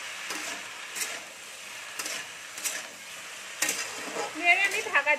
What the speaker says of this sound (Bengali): নুন দিয়ে ভালো করে নেড়ে নিচ্ছি